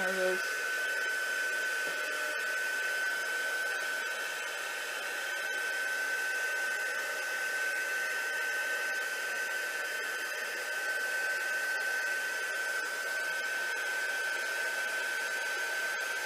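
A heat tool blows steadily over a Tyvek envelope being melted for craft embellishments, a constant close whirring drone with a high whine, holding unchanged for over fifteen seconds.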